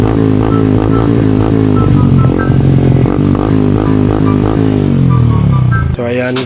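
A motorcycle with a modified exhaust revs loudly and close, a rough droning engine rising and falling in pitch through several throttle blips before cutting off abruptly near the end.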